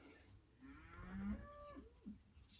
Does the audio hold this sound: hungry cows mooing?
yes